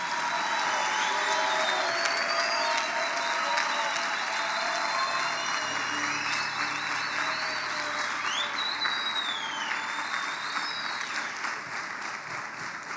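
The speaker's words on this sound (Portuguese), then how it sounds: "Se coloca de pé, dá uma salva de palmas a Jesus." A standing church congregation gives a long, dense round of applause for Jesus, steady clapping mixed with scattered cheers and whoops throughout.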